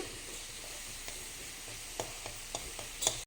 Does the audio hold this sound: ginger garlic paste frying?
yes